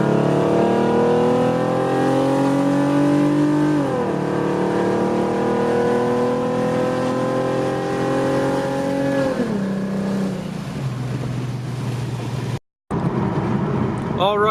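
A V6 Mustang fitted with long tube headers, cat deletes and a full custom exhaust accelerates loudly at close range, its engine tone rising through two gear changes before settling, with a brief dropout near the end.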